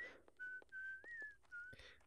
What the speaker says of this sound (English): Nice bit of happy whistling.